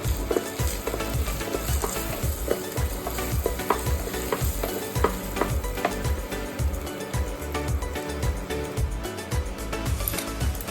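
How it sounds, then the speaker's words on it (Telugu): Ginger paste and turmeric frying in a pan for a Telugu spinach and onion dish, giving a steady close sizzle with repeated scraping and stirring strokes throughout. "ఈ అల్లం పేస్ట్ కూడా కొంచెం పచ్చివాసన పోయేలాగా దీన్ని కొంచెం వేయించాలి"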